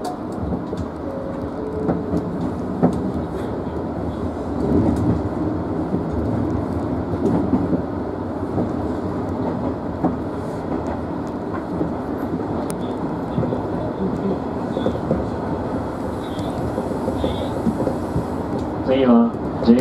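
An Osaka Higashi Line train pulls away from Sugino station with a steady, low rumble of wheels and motor that goes on without a break. Faint clicks and a brief higher tone appear near the end.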